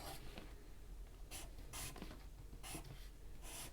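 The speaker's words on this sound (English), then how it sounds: "I've got myself a Sharpie and a piece of paper because I really want to draw" A Sharpie marker scratches across a sheet of paper in short, repeated strokes, close and distinct, with brief pauses between the marks.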